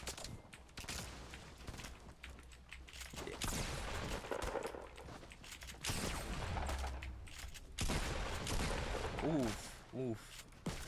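Gunfire from a weapon in Fortnite Battle Royale, bursts of shots mixed into busy game sounds, with a player's short grunts over the top.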